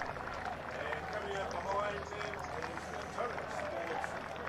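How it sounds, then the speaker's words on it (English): Steady crowd babble and murmur from a rugby stand during a Baywide Premier men's match between Mt. Maunganui and Te Puke, heard as the teams run onto the field, continuous and moderately distant throughout. "Good crowd starting to build on the stand there."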